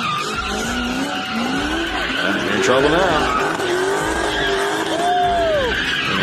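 A street-racing car skids with loud, wavering tire squeals that rise and bend over several seconds, close and continuous under engine roar, while someone talks over it.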